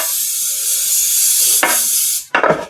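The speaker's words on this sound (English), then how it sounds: "Now this is professional baking spray, so I don't need to worry about putting any flour in there." Professional baking spray hisses steadily from a can while coating a metal quick-bread loaf pan, a loud close spray lasting about two seconds, then a brief second spurt after a pause.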